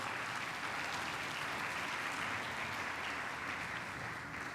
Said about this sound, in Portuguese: dá um aplauso para Jesus bem forte